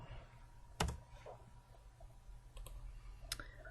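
A few sharp, isolated clicks and light taps from a computer mouse and keyboard while working in an Excel spreadsheet, faint and close in a quiet room; no talk.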